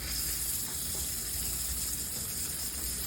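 About half a pound of ground beef sizzles in a skillet, giving a steady, dense hiss that stays constant and fairly loud throughout with no talking.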